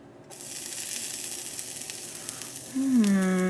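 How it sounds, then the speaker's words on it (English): A steady, soft sizzle of a small piece of steak fat frying in a hot pan, joined near the end by a brief rising squeal. "It's sizzling, but it's not."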